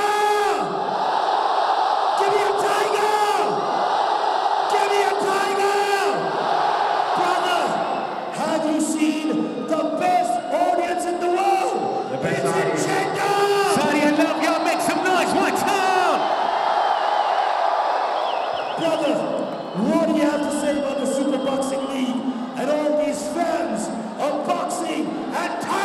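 A large concert crowd at a Saudi fight night cheers, whoops and yells for a rapper, a loud, sustained roar with shouts rising and falling throughout and no pauses.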